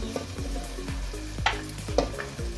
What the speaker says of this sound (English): Now I'll add paneer.